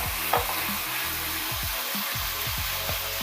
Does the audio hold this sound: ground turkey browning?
yes